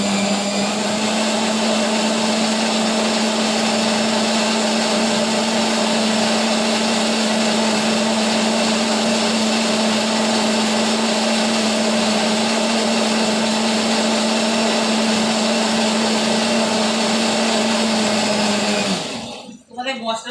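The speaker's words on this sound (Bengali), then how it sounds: "মশলাটা ভালো করে পিষবে।" An electric grinder whirs continuously as it grinds masala spices, a loud, steady motor drone with a constant hum that runs unbroken for about nineteen seconds before cutting off abruptly.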